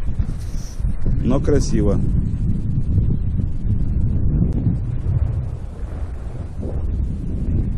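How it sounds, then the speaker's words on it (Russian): Wind gusts across a river at Stanovoe lake during a fishing trip, a rough low rumble buffeting the microphone while someone speaks briefly over it. "Вот оно сегодня ветрено"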